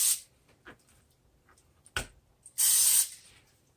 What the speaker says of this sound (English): Spray the chicken as well too, just lightly, both sides.